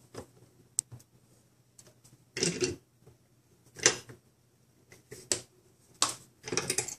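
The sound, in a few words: vise pressing drive pin into Kyosho R/C car axle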